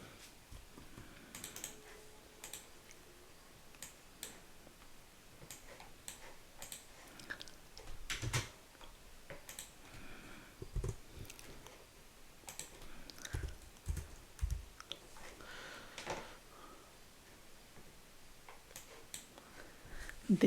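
Keyboard typing while a formula is entered into an Excel spreadsheet: quiet, irregular clusters of soft key clicks, with sparse taps early and denser bursts in the middle.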